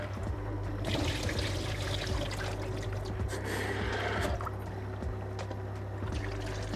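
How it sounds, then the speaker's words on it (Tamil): Close-up sloshing and trickling of water being swirled and poured in a bowl while washing raw green gram, over a steady low hum. "பயரை வந்து முதல்ல நல்லா கழுவணும்"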